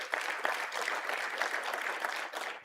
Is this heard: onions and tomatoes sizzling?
no